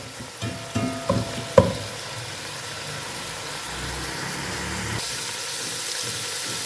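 Chicken pieces fry in a non-stick pan as their released water cooks off, giving a soft steady sizzle, with a few clattering knocks of stirring early on and then an even hiss.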